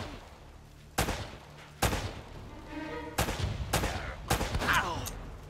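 Gunfire in the video game Uncharted: Drake's Fortune: several sharp separate shots about a second apart, later followed by a quicker cluster of bursts, with faint game sound beneath.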